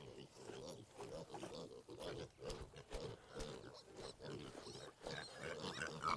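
Pigs in a farrowing barn, with repeated low grunts and snorting breaths coming in an uneven rhythm close by, plus a few sharper knocks, and a voice heard faintly now and then.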